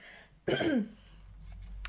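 A single short, throaty throat clear, close and fairly loud, followed by quiet.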